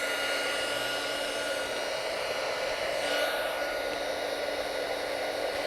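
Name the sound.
small heat tool shrinking foam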